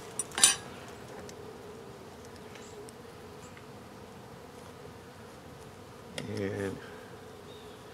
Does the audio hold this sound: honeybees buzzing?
yes